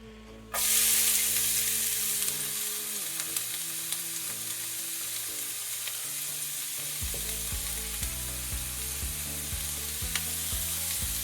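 Onion hits hot olive oil with a sudden loud sizzle, then keeps frying as a steady, close hiss with faint crackles and no talking.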